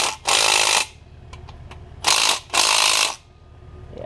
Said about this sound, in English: this bracket bolt I couldn't find, so I'm just gonna send it like I do with the impact.